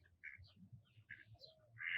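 A white duck quacks at a group of multicolored ducks outdoors, giving several short, faint calls over soft low background noise, with a louder call at the end.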